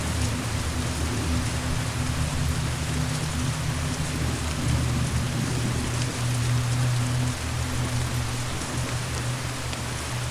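Heavy, cold rain pours down steadily in a dense, continuous hiss, with a low rumble underneath and no voices.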